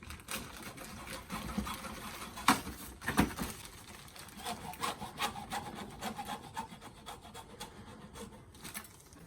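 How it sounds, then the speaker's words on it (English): A heater hose end being sawn through on a Vauxhall Vivaro van, rapid rough back-and-forth rasping strokes, close and moderately loud, with a couple of sharper knocks partway through. "I just saw a bit off the end of that."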